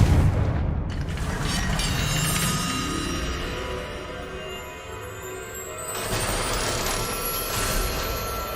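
Confringo spell explosion in Hogwarts Legacy: a loud booming blast that opens the scene and then rolls into a long, dense roar and crackle, lasting steadily with a fresh swell toward the end.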